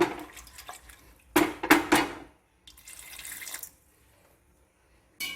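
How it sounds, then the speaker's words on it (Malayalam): Water, about one and a half glasses, pours in short bursts into a metal pressure cooker pot, splashing loudly, with pauses and light clinks between pours, close by and without talk. "ഒന്നര ഗ്ലാസ് വെള്ളത്തോളം ഒഴിക്കണം"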